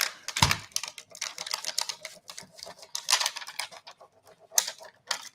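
Crinkly plastic packaging is broken apart around its edge, giving a close, irregular run of sharp crackles and snaps with brief pauses between them and no talking.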